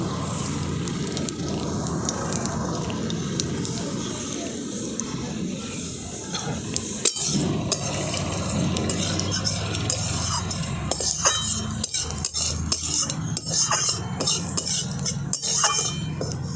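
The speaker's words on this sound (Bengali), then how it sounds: "তেলটা গরম হয়ে গেছে, ফোড়নে দিয়ে দিচ্ছি গোটা জিরে।" Whole cumin seeds spit and sizzle in hot oil in a wok, in oil left over from frying aar fish. Utensil clinks and stirring knocks grow busier in the second half.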